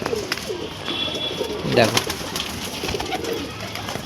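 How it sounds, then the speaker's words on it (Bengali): Two Andhra tournament pigeons are let go, with coos and a quick flurry near the middle of the clip, heard close over someone speaking. "দেখো এই দুটো পায়রা, দেখো ছেড়ে দিল।"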